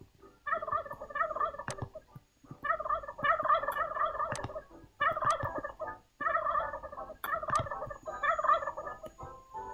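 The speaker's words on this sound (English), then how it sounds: "Because there's tons of turkeys here" Turkeys in the Roblox game Wacky Wizards gobble in repeated bursts of loud, warbling calls, several in a row separated by short pauses, with no talking over them.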